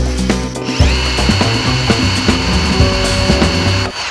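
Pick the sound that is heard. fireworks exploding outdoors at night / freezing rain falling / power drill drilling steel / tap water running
power drill drilling steel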